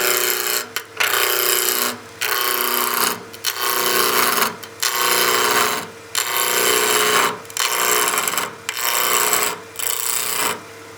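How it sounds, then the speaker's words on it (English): A woodturning lathe spins the wood for a spinning top while a gouge makes peel cuts. It gives a steady loud scraping rasp in repeated bursts about a second long, with short pauses between them, close and without speech. "we're going to start out with some peel cuts"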